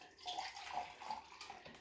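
Homemade mint sauce liquid tipped into a plastic container, a soft brief splashing pour with light trickling, quiet and without talk.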